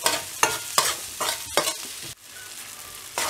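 Tomato being fried with onion in a pan for a masoor dal tadka, heard as several loud rhythmic spatula scrapes and stirs over a crackling sizzle, then a quieter steady fry with no speech.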